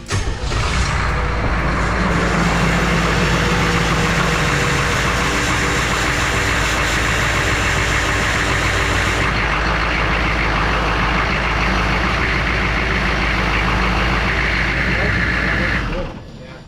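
A Humvee engine starts and settles into a loud, steady diesel-like rumble up close, running continuously for several seconds before cutting off abruptly, with voices faintly mixed in.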